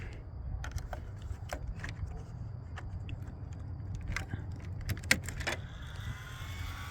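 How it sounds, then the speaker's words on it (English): An auxiliary power unit wired into a car's cigarette-lighter socket runs its fan with a steady, low, close whir. Scattered clicks and handling knocks sound over it. "I can hear the fan whirling"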